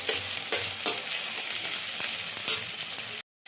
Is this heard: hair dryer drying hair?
no